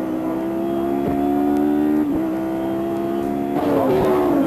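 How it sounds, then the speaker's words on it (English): A 1993 DTM touring car race at the Nürburgring, with an older Class 1 Mercedes 190 engine note loud and sustained as it accelerates past a rival, pitch rising through gear changes with brief dips between shifts. "Despite his older car up against the new Class 1 190 of Ellen Lohr, Mantei breezes past."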